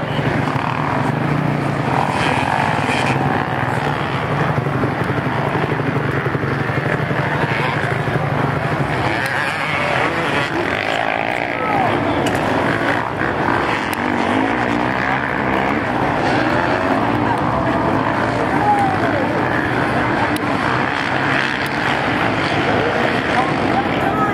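Motocross dirt bikes, among them a Kawasaki, race in a 40cc moto, their engines a continuous buzzing drone with passing whines, steady and fairly loud, while an announcer talks over the track noise.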